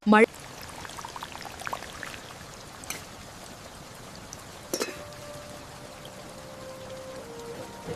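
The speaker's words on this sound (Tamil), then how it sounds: "மழைய பாரு எப்படி கொட்டுதுன்னு" Steady rain falls on a village during the monsoon season, a soft continuous patter of drops with a few sharper knocks and splashes, fairly faint and even throughout, with no voices.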